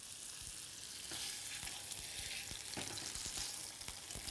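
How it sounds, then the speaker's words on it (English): Pot roast meat browns in a hot pan with a steady sizzle and fat crackle nearby, broken by soft knocks and scrapes as the meat is turned. "As you can see, the meat is beginning to brown there."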